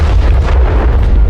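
A dramatic explosion effect deep in the lower levels of the Titan, heard as a loud, sustained low rumble with rolling crackle that fills the whole short moment, with no voices over it.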